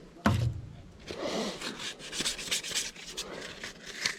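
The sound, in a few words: hand sanding wood with the grain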